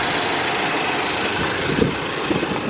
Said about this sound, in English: You got a four-cylinder engine right here putting out 146 horsepower